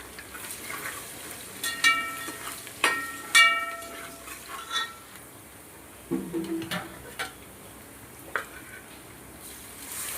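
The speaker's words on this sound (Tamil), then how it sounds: "நல்லா வதக்கி விடுங்க." Sambar ingredients are sautéed and stirred in a pan, producing a soft frying hiss with scattered spoon scrapes and clinks at close range, while a voice sings in the background.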